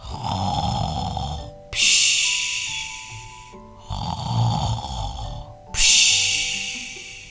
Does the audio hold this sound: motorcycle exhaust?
no